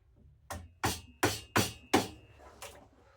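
A woodworker's chisel is struck into the gauge line on a workbench build: five or six sharp mallet taps, evenly spaced and close, the last one lighter.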